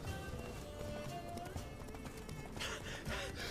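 Roach the horse galloping in The Witcher 3, a steady run of hoof clip-clops with a brief whinny, all in the foreground with no talking.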